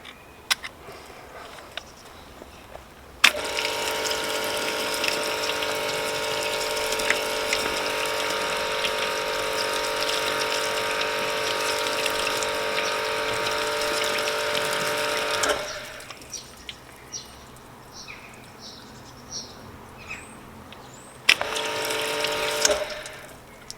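Water floods steadily over the paint of a BMW M4 in a rinse test, a continuous loud rushing pour lasting about twelve seconds, then quieter dripping and running water, then a brief second burst of flow.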